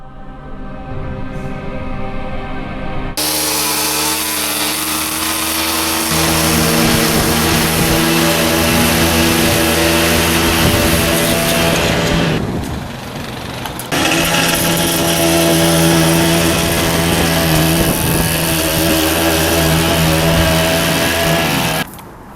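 A string trimmer edging a lawn runs loudly and close with a high buzzing engine whine that holds steady, briefly drops off, then revs back up and continues.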